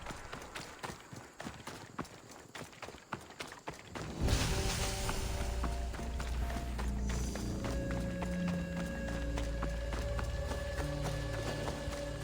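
Rhythmic clip-clop of a horse's hooves trotting steadily in Assassin's Creed Odyssey, close and fairly loud, over a layered game soundtrack with sustained tones.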